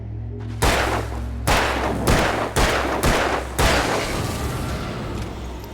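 Gunshots in the Alan Wake video game: five loud, sharp reports spaced roughly half a second to a second apart, each ringing out over a steady low ambient hum with no talking.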